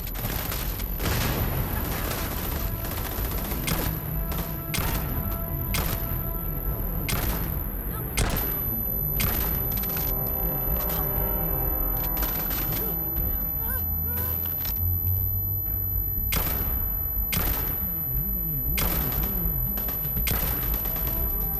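Sustained video game gunfire in a modded Starfield battle, with rapid bursts and sharp repeated shots under shouted combat voices, and booming impacts mixed in throughout.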